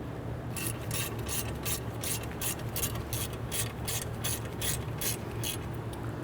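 A ratchet snugging nuts on a front wheel bearing and hub assembly of a 2008-2013 INFINITI G37, a steady run of even, close clicks over a low background hum, no talk.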